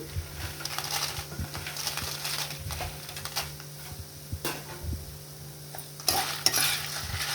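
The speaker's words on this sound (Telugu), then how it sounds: "ఇప్పుడు జీలకర్ర, పచ్చనిపప్పు ఇవన్నీ బాగా వేగిపోయాయి" Cumin seeds, chana dal and dried red chillies fry in a pan with a steady low sizzle and occasional scraping stirs and clinks, close and fairly quiet, with no voices.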